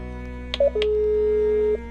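An IP intercom dials several numbers at once, giving short tone bursts followed by a sustained steady electronic tone lasting about a second, faint and alone without speech.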